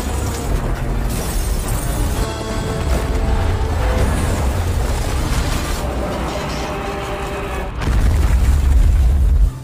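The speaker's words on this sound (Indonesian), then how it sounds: "tiba-tiba sesuatu meledak hingga memicu kebakaran cukup besar" A loud, rumbling film explosion with crashing debris that sets off a large fire, sustained and booming throughout, swelling again near the end.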